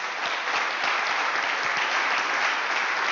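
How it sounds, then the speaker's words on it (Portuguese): Congregation at a pastors' morning gathering applauds in praise, giving dense continuous clapping from many hands that stays steady and loud throughout. "Queria que você aplaudisse o Senhor Jesus mais uma vez."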